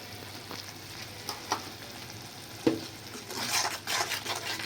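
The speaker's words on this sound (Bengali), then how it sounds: "মশলাটা ভালো করে কষিয়ে নেব" Ground cumin and coriander masala with salt frying in a pan, a soft steady sizzle with a few light taps and scrapes of a spoon, swelling louder toward the end, no talking.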